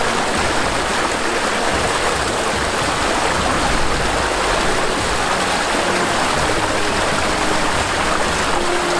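Strong rush of water flowing toward a homemade ram pump intake, a steady, loud, broadband torrent that holds constant throughout with no voices.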